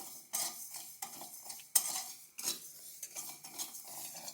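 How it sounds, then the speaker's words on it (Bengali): Fennel seeds (mouri) dry-roasting with Gobindobhog rice in a dry pan, stirred in a steady rhythm of scraping, clinking strokes with a faint sizzle underneath, close and moderately loud with no talking. "সঙ্গে দিয়ে দেবো কটা মৌরি। এই কটা একটু ভালো করে ভেজে নিচ্ছি।"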